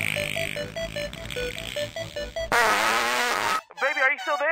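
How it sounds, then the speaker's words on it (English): A loud, buzzy fart sound effect cuts in partway through a comedic parody song, following a plinking melodic line and leading into sung vocals. "Baby, fart me through the phone."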